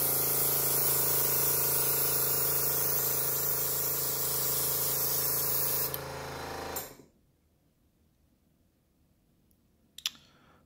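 Spray paint hisses from an aerosol can in a long, loud, steady burst lasting about six seconds, then cuts off into near silence, with a brief click near the end.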